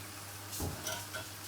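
Spinach pakoras deep-fry in hot oil with a soft, steady sizzle, broken by a brief scrape or clink of a utensil turning them in the pan.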